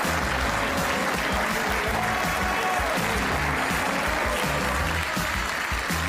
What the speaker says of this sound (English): Please keep the applause going as we applaud our 2025 European Open champion, Joshua Filler.